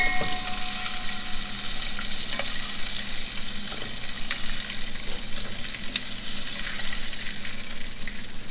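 Shrimp for firecracker shrimp fry in hot oil with a steady, dense sizzle and crackle that runs unbroken throughout, with occasional small pops.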